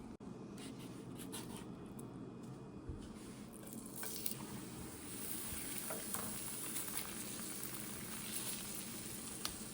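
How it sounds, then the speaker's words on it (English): Teriyaki-sauced tofu cubes simmering in a pan on the stove, a soft continuous sizzle and bubbling with faint scattered pops, steady and fairly quiet throughout. "kind of let it simmer"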